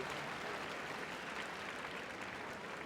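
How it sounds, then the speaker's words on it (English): Audience at a Crufts 2025 Citizen Dog Training Scheme display clapping for the dogs and handlers, a continuous soft wash of many hands from a large indoor arena, faint and distant. "Give them all a big round of applause"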